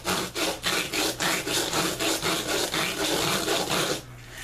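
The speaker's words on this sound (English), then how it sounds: "So we can take this and kind of sand this" Rhythmic back-and-forth sanding strokes on a dried corn cob being shaped into a pipe, about a dozen steady rasping passes close up, then stopping near the end.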